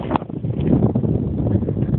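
Wind gusting steadily across freshly cleared land stacked with firewood, a broad, continuous rushing roar with close microphone buffeting.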